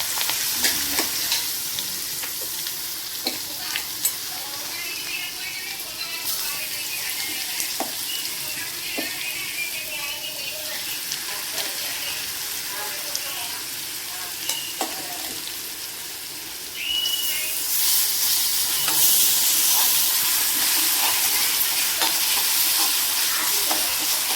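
Steady sizzling of green chili in hot tempering oil crackles throughout, growing louder and brighter near the end, with occasional clicks of stirring.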